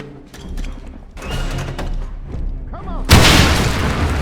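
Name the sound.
grenade explosion in the video game Wolfenstein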